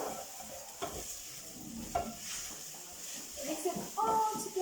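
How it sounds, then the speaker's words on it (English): Tin fish lasagne mixture being stirred in a pot, a soft scraping and clinking of a spoon against metal under a light background hiss, with a few sharper knocks near the end. "Mix it all together"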